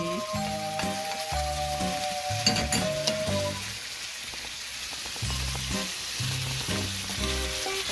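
Pork sizzles loudly as it goes into a hot pot for sinigang, a constant crackling fry with stirring clatter and utensil knocks throughout.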